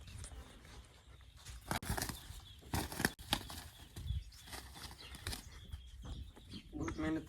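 Bursts of wing flapping from a bird, several quick flurries close by with brief pauses between them, over faint background noise.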